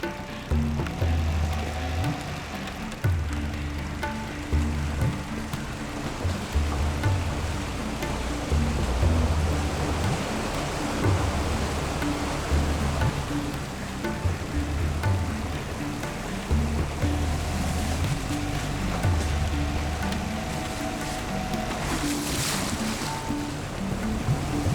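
Floodwater from an overflowing river rushes across a forest road in a steady, loud roar, with low rumbling churn running continuously throughout and no voices.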